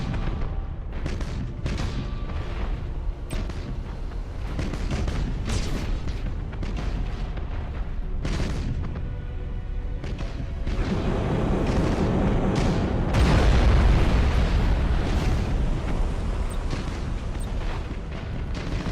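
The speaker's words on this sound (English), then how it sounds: "Fire all weapons" Spaceship weapons firing in Battlefleet Gothic Armada: repeated heavy booms and bursting explosions roll over a dense rumbling battle bed, intensifying into a louder, sustained barrage toward the end, with no voices.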